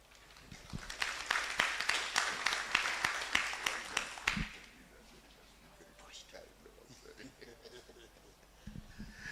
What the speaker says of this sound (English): Another round of applause for Mr. Ombalo.